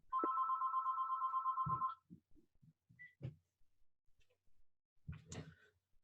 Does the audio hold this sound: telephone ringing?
yes